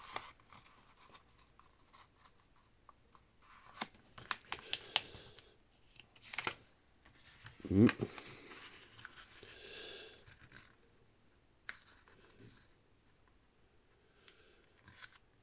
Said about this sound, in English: Then we're going to take your right side and we're going to fold it over to the left.